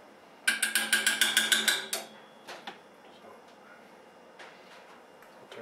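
A Princess Auto sausage press cranked in quick ratcheting clicks, about nine sharp mechanical bursts in a row, then a few scattered clanks as the sausage casing fills.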